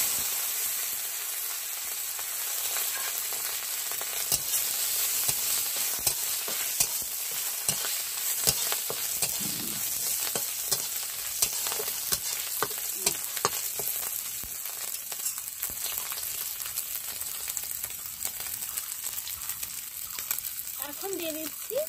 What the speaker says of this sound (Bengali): তেল গরম হয়ে গেছে, দিয়ে দিচ্ছি শুকনো লঙ্কা আর কালো জিরে।